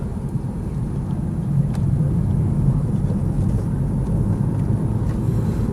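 A BMW 328Ci coupe with low-profile tyres runs at a steady idle, giving a close, low and even rumble with no talking over it.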